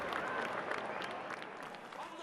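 Steady applause from an audience for a world heavyweight boxing champion fills the whole stretch, dense and continuous with scattered claps and crowd noise.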